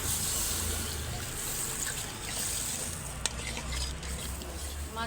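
Onion paste masala stirred and fried in a pan for a silver carp curry, a steady close sizzle with soft scraping and bubbling throughout and one brief sharp clink near the middle.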